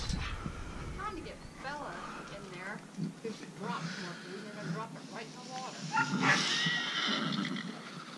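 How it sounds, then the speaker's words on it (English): A horse neighs repeatedly in long, wavering whinnies at middle distance, with people talking over it. "the neighbor's horse is over there spazzing, excuse me, spazzing out"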